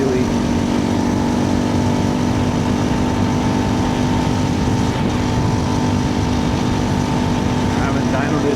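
Steady engine drone of a 2024 KTM 350 EXC-F dirt bike on a desert ride, loud and continuous with slight shifts in pitch, heard up close with wind noise and talk over it.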